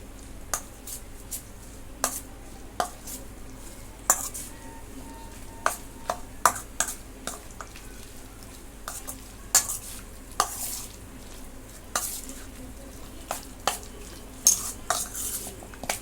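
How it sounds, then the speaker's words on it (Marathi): Chicken for chicken 65 is mixed by hand with ginger-garlic paste, egg and spices in a bowl, giving soft wet stirring beneath a series of sharp clinks and taps at irregular intervals, fairly quiet with no talk. "आणि एक अंड आता हे सर्व मी मिक्स करून घेते"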